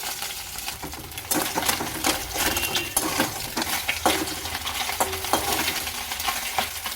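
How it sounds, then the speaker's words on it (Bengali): Fish fry in hot oil in a pan, a constant close sizzle broken by scraping, clinking stirs and turns of the spatula. "মাছগুলো এখন আমি ভেজে নিই দেখো মাছগুলো ভাজা বসিয়ে দিচ্ছি"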